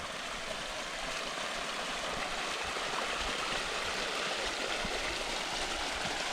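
Running water pours steadily into an emptied, freshly cleaned thermal pool of roughly 25-degree spring water at Klun's baths, a continuous close rushing and gurgling wash with no voices.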